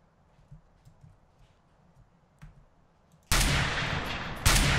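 Gunfire in MTA: San Andreas DayZ, aimed at a player on a bicycle: after quiet low rumbling, a sudden loud sustained blast of shots fills the last second and a half, with a brief break before a final shot.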